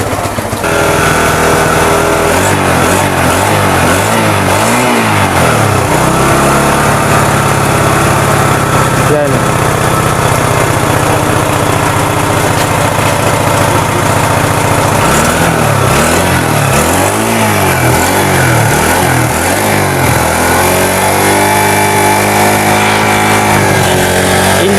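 A TVS motorcycle engine running steadily just after being started, loud and close, with a continuous buzzing drone and rhythmic surges in its note throughout.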